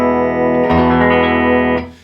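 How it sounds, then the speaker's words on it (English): An electric guitar rings out through a Magnatone amplifier, a sustained chord struck and then restruck, with a touch of effect coloring, fading at the end. "Now I'm going to bring up my guitar, not too loud."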